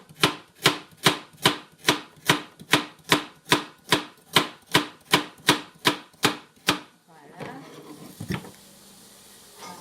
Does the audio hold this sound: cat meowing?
no